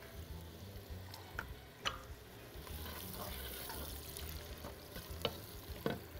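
Chopped onion sizzling in plenty of oil with salt added, a soft continuous fry broken by a few sharp clicks and scrapes, with no talking.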